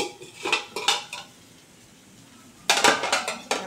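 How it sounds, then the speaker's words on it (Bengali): A pot lid clatters off a pan of cooked green note shak, with several bright metallic clinks at the start, a quiet pause, then a louder burst of clanking near the end. "ঢাকনাটা খুলে দেখি শাকটা কেমন হলো।"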